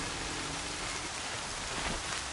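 Rain falling in the video game Horizon Zero Dawn: a constant, even hiss of heavy rainfall filling the scene, with no speech.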